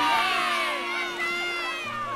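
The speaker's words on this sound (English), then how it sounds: "the villagers shouting." Villagers in the animated Snail and the Whale shout together as a lively crowd, overlapping raised voices and cheering, loud and close for a couple of seconds.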